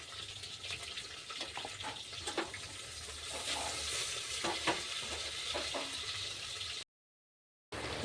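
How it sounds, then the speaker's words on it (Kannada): Potato, onion and green chilli fry in a pan with a soft, continuous sizzle and occasional light stirring scrapes, heard faintly and close, then a short silent gap near the end. "ನೋಡ್ರಿ ಈಗ ಆಲೂ ಹಾಕಿನಿ ಉಳ್ಳಾಗಡ್ಡಿ ಮೆಣಸಿಕಾಯಿ ಎಲ್ಲ ಫ್ರೈ ಆಗಬೇಕು"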